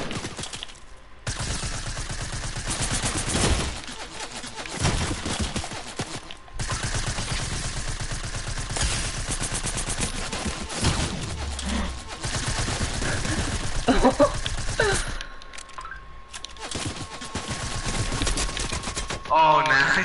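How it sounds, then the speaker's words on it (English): SMG gunfire in a shooter game: rapid bursts of submachine gun fire, loud and close, broken by short pauses, with a player talking between the volleys. "just want to hit you with my SMG from friggin' back here"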